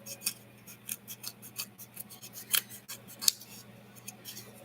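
Scissors snipping around a craft piece made from toilet rolls, a quick series of close, crisp snips in an irregular rhythm, with a couple of sharper cuts standing out over quiet room hum.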